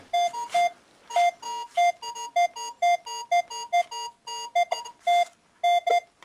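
Metal detector signalling in an attic, a series of loud electronic tones in rapid, irregular repeated pulses, some doubled, close and alone without talk.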